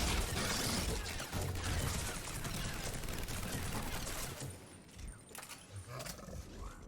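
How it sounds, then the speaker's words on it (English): Gunfire in Mass Effect 3, a dense roaring barrage of rapid shots and blasts that stays loud for several seconds, then thins into scattered bursts. "You shot 200 rounds at the enemy."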